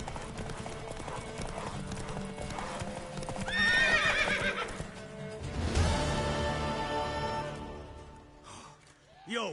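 Horse hooves clip-clop steadily in The Witcher 3 video game, with a loud neigh and whinny in the middle, all under continuous game music and ambience.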